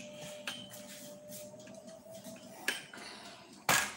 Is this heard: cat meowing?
no